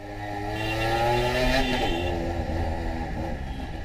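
Motorbikes roar past in busy road traffic, engine noise swelling loud and close then easing off as they pass, with a steady rumble continuing underneath.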